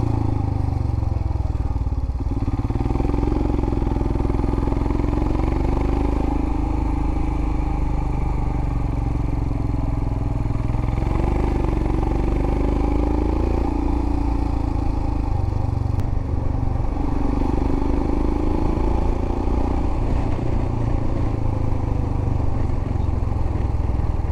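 A motorcycle engine drones continuously on the hill roads of Kolli Hills, close and steady with gentle pitch swells as the rider shifts and climbs, with no talking.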